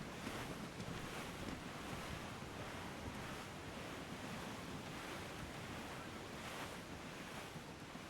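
Strong wind and ocean waves at sea aboard a sailing ship in Assassin's Creed IV Black Flag, a dense, continuous roar of gusting wind and surf with rolling swells throughout, no voices.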